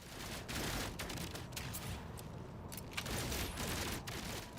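The bolt caster, an alien multi-tool weapon in No Man's Sky, fires in a dense, sustained barrage: loud, rapid shots run almost without pause, with a few sharper cracks standing out.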